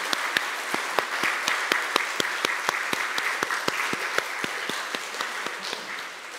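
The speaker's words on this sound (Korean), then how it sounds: "박수로 한번 위로해 주시기를 바랍니다" A church congregation claps together during a 2020 Sunday worship service, a steady run of sharp, evenly spaced claps continuing for several seconds with no talking over them.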